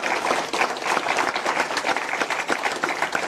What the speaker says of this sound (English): A round of applause, please, for Siobhan.